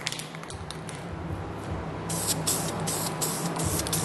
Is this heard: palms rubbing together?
no